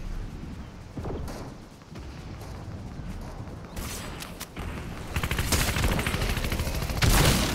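Fortnite gunfire crackles in bursts, starting sparse and growing into dense rapid volleys of shots that get louder toward the end.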